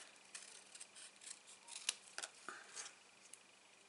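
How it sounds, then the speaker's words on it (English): Scissors cutting card while making a handmade wiper card, faint close snips and crisp rustles in short irregular bursts over a quiet room. "So just follow it round with your scissors."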